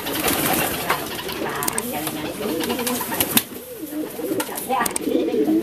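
Homing pigeons coo in a breeding loft, soft repeated low calls rising and falling throughout alongside occasional wing flutters and clicks, with a person talking intermittently nearby.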